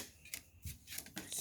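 Location cards from the Atlantis Island of Gods board game being handled: soft, quiet papery slides and taps at irregular intervals.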